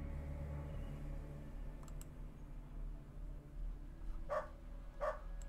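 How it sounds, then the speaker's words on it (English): Dogs bark in the Underrail video game, with two short, sharp barks near the end over quiet ambient hum and faint clicks. "that is just dogs"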